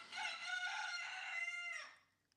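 A rooster crows at dawn near a house, one long, loud, sustained call that rises quickly and then fades away, with no other sounds around it.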